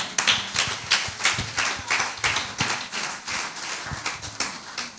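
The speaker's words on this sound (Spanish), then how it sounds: "Démosle palmas al Señor." A church congregation claps in a steady, even rhythm during a sermon, with crisp, fairly soft hand claps repeating for several seconds.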